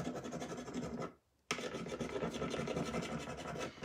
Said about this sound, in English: And just like you would a transfer, you gotta burnish it on.